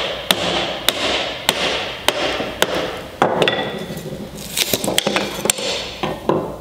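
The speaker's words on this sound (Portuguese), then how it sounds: "Eu vou usar o formão aqui como cunha e bater com o macete." A mallet repeatedly strikes a wood chisel driven as a wedge into a glued MDF joint, sharp evenly spaced knocks roughly every half second over steady background noise, close and fairly loud, with a few quicker taps toward the end.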